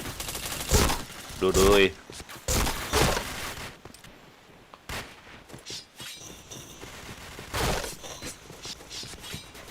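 Rapid bursts of gunfire from a weapon being tried out in a video game, loud volleys clustered in the first seconds and again near the end, under and between excited game chatter from players.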